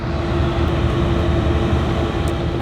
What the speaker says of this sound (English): It's a really nice train ride so far.